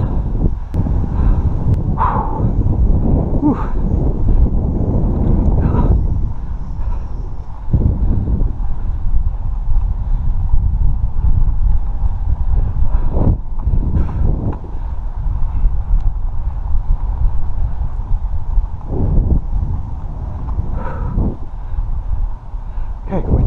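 Strong, gusty wind roars across the microphone while a Cross Kites Sonic 7.5m kite flies. The low rumble is loud and continuous, with the buffeting rising and falling in sharp thumps.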